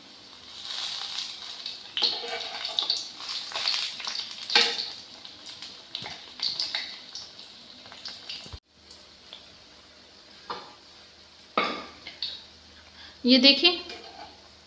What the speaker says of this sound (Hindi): ऐसे करके हम सारे जो ब्रेड के पीस हैं वो हम गोल्डन ब्राउन कर लेंगे